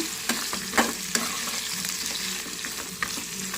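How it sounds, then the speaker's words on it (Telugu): Chopped tomato and onion frying in a pan give a close, steady sizzle, broken by a few sharp spatters and stirring knocks, with no one talking. "ఇలా ఫ్రై అవుతున్నప్పుడే మనం కట్ చేసుకున్న టమాటా ఆనియన్ వేసుకున్నాం బాగా ఫ్రై అవుతా ఉంటే"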